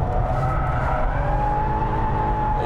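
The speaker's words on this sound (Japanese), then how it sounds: "なんとドリフトもできちゃうらしいじゃないですか" A Toyota Mark X GRMN drifting with a limited-slip differential: loud sustained engine drone with rising pitch, tires squealing steadily throughout, close and continuous with no talk.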